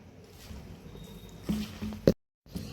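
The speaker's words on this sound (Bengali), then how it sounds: "সর্ষে শাকটা লবণ দিয়ে আমি চটকে নেব।" Mustard greens being squeezed and kneaded with salt by hand, soft close squishing and wet rustling that builds to a sharper squelch, pauses briefly and then resumes.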